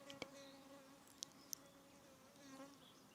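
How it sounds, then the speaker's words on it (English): Wasp buzzing outdoors, a faint, steady insect drone with shifting pitch that holds for the full few seconds, joined by a few sharp, brief clicks. "Can you hear the wasp?"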